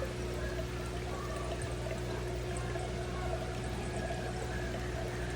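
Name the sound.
aquarium siphon sucking dirt and water from fish tank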